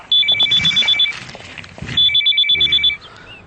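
A telephone rings in a Telugu movie scene, two bursts of rapid electronic trilling separated by a short pause, close and loud with little else around it.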